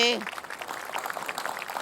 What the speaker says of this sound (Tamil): அதுக்காக குழந்தைக்கு ஒரு கைத்தட்டல் வாங்கி கொடுக்கலாங்க